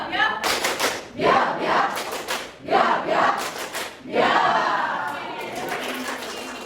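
A classroom group of standing students clapping together after a count of three, loud bursts of claps and shouts repeated in several waves, with voices over them.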